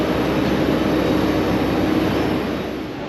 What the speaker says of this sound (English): It's a teeny tiny little plane today.